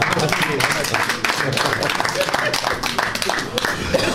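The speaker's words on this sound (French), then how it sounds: "On applaudit très très fort." Crowd at a municipal working visit clapping steadily, the applause mixed with voices and crowd noise throughout.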